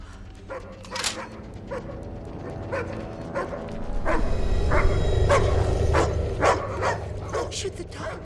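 A dog barking and yipping in sharp bursts through an action-movie scene, several barks in quick succession against a background rumble, with people talking over them.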